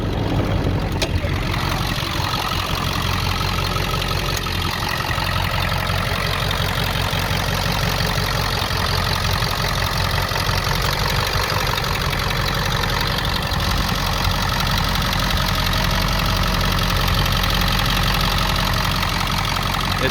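A 2002 Ford F250 with a 7.3L diesel engine idles steadily with the hood up, a loud, close, continuous low rumble with a fine clattering knock running evenly throughout, and no voices.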